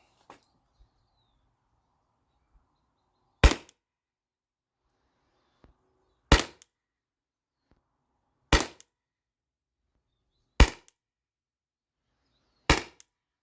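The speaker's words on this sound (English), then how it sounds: "S2 on a CO2 tank. I'm going to shoot 10 rounds at this and then switch out the target." Salt Supply S2 CO2-powered salt gun firing at a target, five sharp loud shots spaced a few seconds apart, with faint handling clicks in between and no talking.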